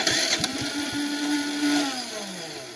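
A Predator 3500 Wi-Fi generator's electric starter cranks the engine, giving a whirring motor whine that holds for about two seconds and then trails off, fairly faint, with a few clicks at the start.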